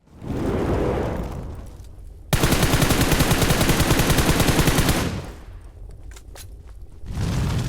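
Bursts of automatic gunfire in the mobile battle game PUBG Mobile, with M416 and P90 guns, rattle loud and close: a short volley, a long sustained rapid burst, then scattered single shots before another burst.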